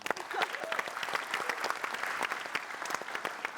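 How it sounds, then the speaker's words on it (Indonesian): A live comedy stage audience at a Srimulat show gives a dense, steady round of applause. The clapping is loud and continuous and lasts the whole stretch, with crowd noise mixed in. "Kita kasih tepuk tangan untuk Pak Agung Gumelar."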